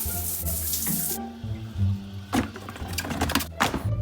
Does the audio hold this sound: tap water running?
yes